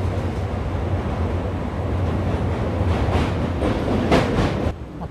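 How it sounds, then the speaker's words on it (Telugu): Guntur–Narasapur Intercity Express train rolling along near Krishna Canal Junction, a steady loud rumble with rhythmic clickety-clack of wheels over rail joints, continuous throughout with no talk. "మొత్తానికి మా ట్రైన్ అయితే కదిలింది కృష్ణా కెనాల్ జంక్షన్ నుంచి"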